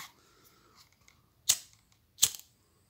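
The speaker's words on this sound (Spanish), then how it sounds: "poniendo el encendedor para abajo, para no quemarse, derrito el, el hilo y lo remacho" Two sharp, brief clicks of a lighter sound close by while the end of leather-stitching thread is melted and riveted, with a quiet pause between them and soft handling noise before.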